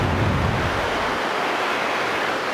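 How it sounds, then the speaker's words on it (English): River water rushes steadily beneath a bridge at night, a loud, continuous broadband roar that stays close and unbroken throughout, with no voices. "that water is absolutely ringing, isn't it, at night time?"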